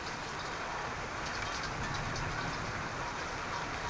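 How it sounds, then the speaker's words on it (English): Rainwater runs in a steady stream down a garden path after a hailstorm in Calgary's Mount Pleasant, a constant, faint, even rushing wash with no voices. "I've never seen the water flow like that though."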